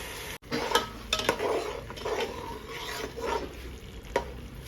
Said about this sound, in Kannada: ಈಗ ಇದನ್ನು ಸ್ವಲ್ಪ ಚೆನ್ನಾಗಿ ಫ್ರೈ ಮಾಡ್ಕೊಳ್ಳೋಣ.